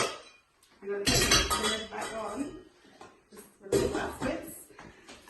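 Hot popcorn is tossed and whisked into a honey and whiskey mixture in a bowl, making bursts of clattering and scraping against the bowl separated by a short pause. A brief voice is heard in between.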